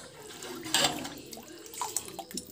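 Water added to a tamarind curry of wild ivy gourd as it cooks, heard as a soft, faint splash and some brief trickling pours with no talking.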